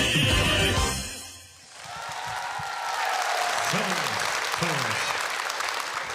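A Crimean Tatar Hıdırlez concert audience breaks into broad, sustained applause after music fades out, the clapping swelling to a steady roar with a voice speaking briefly over it.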